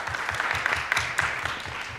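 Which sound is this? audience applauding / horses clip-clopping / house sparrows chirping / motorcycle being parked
audience applauding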